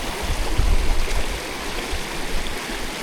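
Rainwater rushes through a swollen stream on rainy Dartmoor, a steady close roar of churning water with a few heavier surges.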